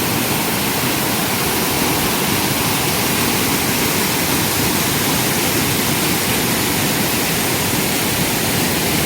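Thunderous, unbroken rush of a large waterfall heard up close, loud and dense without any pause or voices.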